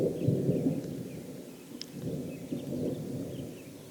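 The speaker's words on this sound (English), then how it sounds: "I was greeted by this incoming thunderstorm." Thunderstorm rolling in over a mountain summit, heard as a steady deep rumble of thunder with wind gusting across the peak, loud and continuous without any talking.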